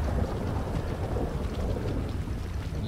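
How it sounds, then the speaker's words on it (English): Steady heavy rain with rolling thunder during a stormy scene in the Grand Theft Auto game, set in Los Santos; a dense, continuous roar with low rumbling throughout and no voices. "And it's thundering."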